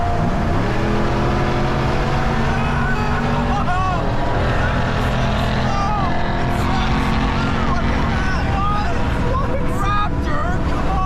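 A Ford Raptor and a GMC Sierra AT4X pickup drag racing side by side, engines revving hard with rising gear sweeps over steady roaring noise, and people talk excitedly above it.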